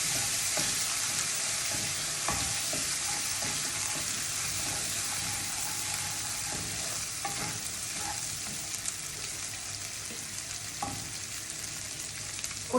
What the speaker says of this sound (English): Fry it up nicely and put in about a teaspoon of turmeric or haldi powder.